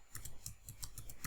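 Computer keyboard keys pressed while working in an animation rig file, about eight quick crisp clicks in an uneven rhythm, close and fairly quiet with no talking.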